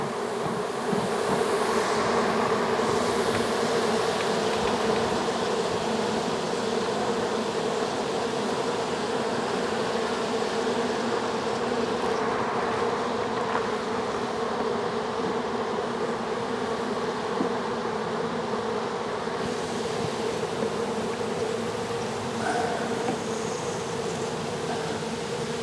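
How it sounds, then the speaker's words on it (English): Honey bees swarm around a freshly split hive, a steady, dense buzzing drone filling the air close by, with no voices. "And a lot of bees that are wondering what's happened to their nest."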